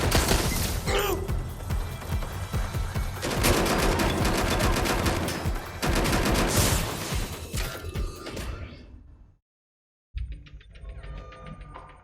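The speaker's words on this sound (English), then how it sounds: "Someone's shooting." Sustained gunfire rattles through a Watch Dogs: Legion firefight, loud and dense bursts of automatic shots with crashes for several seconds, then tapering off, a brief silence, and quieter mechanical sounds resuming.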